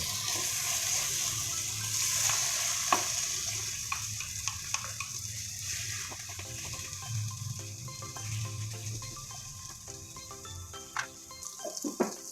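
Ingredients for ampalaya con carne with beef, sauce, soy sauce, black pepper and salt going into a hot pan, giving a steady watery hiss and sizzle that runs throughout with a few clatters, and no talking.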